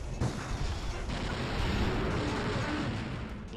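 Explosions from weapon fire in the video game Dino Crisis 2, a dense continuous barrage of booms and rumbling blasts at steady loudness, with no talk over it.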